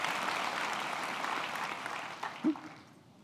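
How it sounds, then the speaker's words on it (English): A crowd claps in sustained applause that gradually fades out near the end. "please give yourself a round of applause now"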